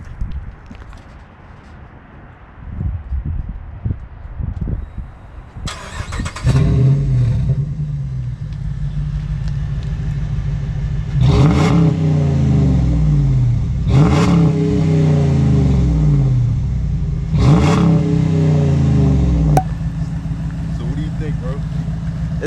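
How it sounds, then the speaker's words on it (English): A car with its muffler removed cranks to life and settles into a loud, raw idle, then revs hard three times in spaced bursts, with voices talking faintly beforehand. "I'm about to start my car, bro."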